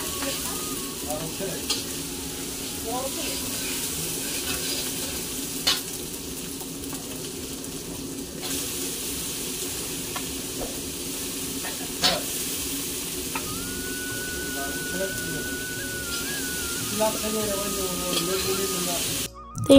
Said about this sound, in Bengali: মামিমা রান্না বসিয়ে দিয়েছে, বাঁধাকপি আর কি সব রান্না করছে